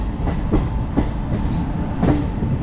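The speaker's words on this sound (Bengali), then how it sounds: "আমাদের এই ট্রেন ঠিক খড়গপুর জংশন ঘুরছে দেখতে পাচ্ছেন" An Indian passenger train running through Kharagpur Junction gives a steady rumbling drone, with rhythmic clickety-clack of wheels over rail joints recurring every half second or so, heard from inside the moving coach.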